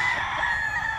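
A rooster at a gamefowl farm lets out a sustained, strained crow, close and loud, filling the whole short moment without any voices.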